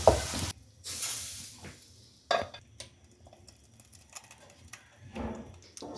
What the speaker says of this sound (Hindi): इसको मिक्स करें।